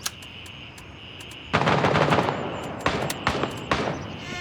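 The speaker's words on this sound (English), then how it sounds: "AK going off." AK rifle fire in the video game Grey Zone Warfare: a few isolated shots, then sharp bursts of automatic fire with a ringing tail, loud and fairly close, with no voices over it.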